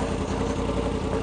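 A 2016 Yamaha R1 motorcycle with a straight exhaust idles nearby, a brief, loud, rough and steady engine rumble with no speech.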